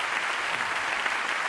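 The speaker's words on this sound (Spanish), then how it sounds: "Un aplauso para la gente del equipo" A steady round of applause from a crowd at a tribute to Bar Patillas, clapping for the event team; dense, even and continuous for the whole stretch, with no voices over it.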